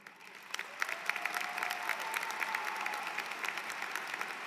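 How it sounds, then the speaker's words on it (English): Audience applause at a university undergraduate business and STEM graduation ceremony: sustained, fairly distant clapping with distinct individual claps standing out, plus a faint murmur of crowd voices beneath. "I want to take a minute to recognize them and applaud them"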